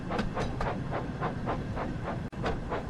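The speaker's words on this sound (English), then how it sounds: "Thomas puffed away to the next siding" A Thomas the Tank Engine toy steam train puffs along in a steady, even rhythm of breathy chuffs, about four per second, close and fairly loud with a hissy rumble underneath.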